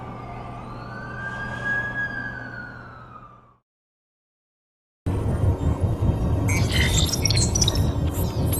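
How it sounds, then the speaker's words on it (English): An ambulance siren wails with a rising and falling tone over traffic rumble, cuts off abruptly into silence, then a dense loud burst of mixed street noise follows. "That's the ambulance I called."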